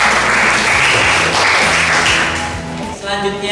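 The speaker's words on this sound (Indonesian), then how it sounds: "Tepuk tangan buat Mas Abid." A classroom of students bursts into loud, dense clapping for a classmate who answered well, a sustained burst that tapers off near the end.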